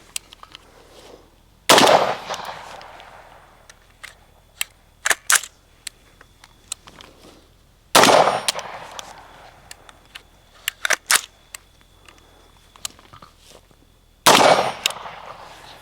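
An MK18 Block II rifle fired unsuppressed while undergassed, giving three loud, sharp gunshots about six seconds apart, each with a ringing tail and small clicks between.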